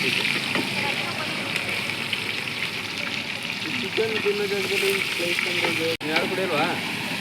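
Onions sizzle in oil with curry leaves and green chillies, a steady close frying hiss with occasional stirring, while people talk over it and a brief knock cuts in near the end.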